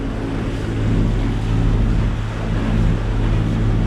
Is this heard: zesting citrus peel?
no